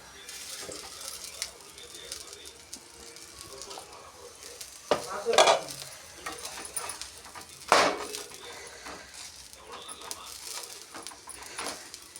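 Ragi flour roti cooking on a pan, with a soft steady sizzle and a couple of louder clatters as it is flipped and the lid is handled; no talk.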